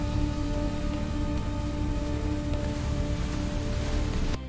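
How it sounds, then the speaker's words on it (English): Steady, heavy rain falls continuously with a dense, even wash of sound and no voices, as at night in a dark town. "The rain hadn't stopped."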